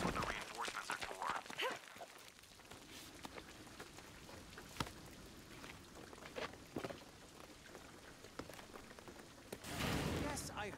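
Rainfall in the Shadow of the Tomb Raider video game, a soft continuous patter with scattered drips and splashes, running quietly under spoken dialogue and swelling briefly toward the end.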